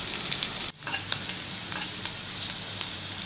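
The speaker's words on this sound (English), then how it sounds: "Now we have to add garlic and ginger and fry it till crispy." Garlic and ginger frying in hot oil in a pan, a steady loud bright sizzle with crackling pops, a brief dip near the start, no voices.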